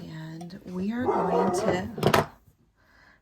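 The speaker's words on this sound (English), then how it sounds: "please excuse my dog because I know that my kid is making her bark." A dog barks loudly a few times close by, overlapping with a person talking.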